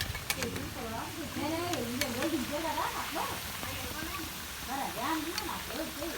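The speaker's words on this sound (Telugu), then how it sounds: "ఈ విధంగా మరుగుతున్న ఆయిల్లో ఇది వేసుకొని ఈ విధంగా డీప్ ఫ్రై చేసుకోవాలి" Hot oil bubbles and sizzles steadily as gorumittalu, a traditional sweet snack, deep-fry to golden, while a voice speaks over the crackling.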